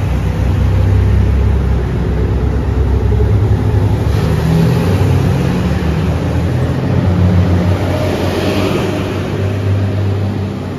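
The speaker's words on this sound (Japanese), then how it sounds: "高松駅9時33分発特急逗子を岡山駅2700系特急機動車。" A JR Shikoku 2700 series limited express diesel railcar at Takamatsu Station rumbles with a loud, close engine drone that swells as it revs, steady low throb continuing throughout without voices.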